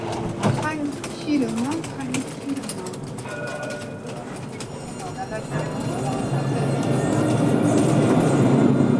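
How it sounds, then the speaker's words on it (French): A TAM tram pulls into Celleneuve station in Montpellier: rumbling wheels and rising rail noise build toward the end, with a short squeal, station ambience and people talking over it. "il partira vers Juvignac, qui est notre rame qui arrive de l'autre côté"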